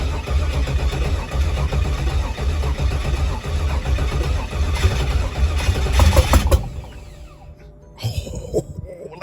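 An LS-swapped Pontiac G8 cranks, fires and settles into a loud, rumbling idle close by, then cuts out abruptly and goes quiet before a brief restart.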